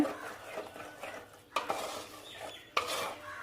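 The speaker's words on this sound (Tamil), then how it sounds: "இது நல்லா கொஞ்சம் கொதிக்கட்டும்" Thick pea gravy bubbling gently in a pan while a utensil stirs and scrapes through it, with a couple of sharper clinks against the metal.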